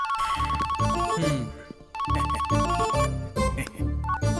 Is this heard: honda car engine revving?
no